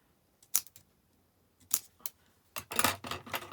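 Scissors snip dimensional adhesive foam pads in half while a greeting card is being made, a few quiet crisp cuts close by in uneven bursts, alone without talk.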